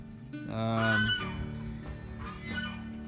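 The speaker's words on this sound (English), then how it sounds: "We are finding that chickens are an interesting bunch." Backyard chickens in a coop on a rainy, muddy farm let out a couple of honking, squawking calls, one drawn-out cry followed by a shorter one, fairly faint and alone.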